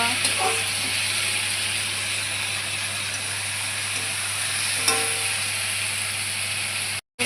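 Small fish being stir-fried with salt and turmeric in a pan, giving a continuous loud sizzle and hiss with faint occasional stirring scrapes over a low steady hum, cutting out briefly near the end.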